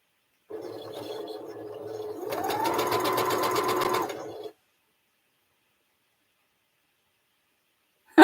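A Featherweight sewing machine starts up close and stitches for about four seconds, its motor speeding up into a faster, higher whir partway through, then stops and leaves near silence.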